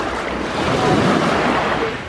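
Waves washing onto Kastani Beach on Skiathos, a loud continuous roar of surf that swells slightly midway, mixed with wind buffeting the microphone and no voices.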